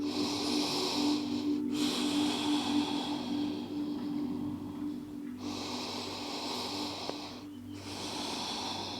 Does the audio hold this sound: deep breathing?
yes